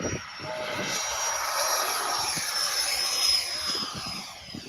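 A radio-controlled model jet aircraft takes off, its turbine whine steady and loud with a high-pitched tone above a broad engine roar, holding close through the whole run.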